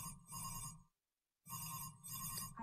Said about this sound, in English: So that's a simulated phone call from a supervisor asking them to reconsider a previous consideration about the Miranda issue